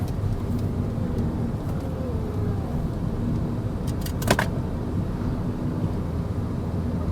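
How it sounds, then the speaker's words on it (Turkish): Steady car traffic on a congested road in Java, a constant dense engine rumble and road noise with a brief metallic clatter about midway through. "Şöyle trafikte biraz sıkışıklık var göstersene."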